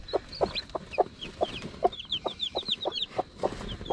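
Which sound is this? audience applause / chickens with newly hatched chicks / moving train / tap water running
chickens with newly hatched chicks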